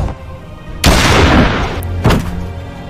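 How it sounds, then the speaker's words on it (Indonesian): A loud booming gunshot from the film Ip Man bursts out with a long rumbling tail, followed by a second, softer thud about a second later, all over a constant background din. "Tapi tiba-tiba kepala Liu ditembak."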